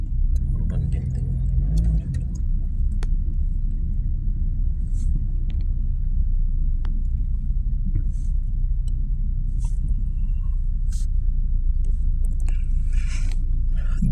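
Steady low road rumble of slow, congested traffic on the Skyway elevated highway toward Makati, a continuous close drone of car engines and tires with a few faint ticks and clicks, no voices.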